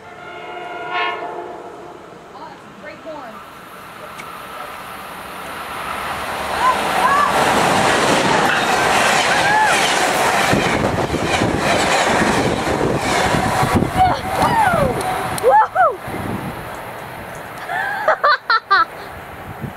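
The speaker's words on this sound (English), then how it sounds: "Train approaching. Please remain behind yellow line." A train rumbles in and builds to a loud, steady roar with a horn sounding and rhythmic clacking of wheels, ending with several sharp bursts.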